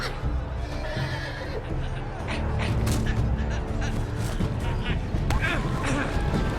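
Horses neigh and whinny amid a loud, dense game-battle soundscape during the Red Wedding chapter of Telltale's Game of Thrones, with galloping hooves mixed in and a voice talking over it.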